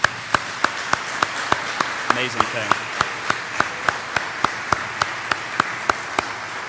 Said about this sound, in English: let's give Officer Curry a round of applause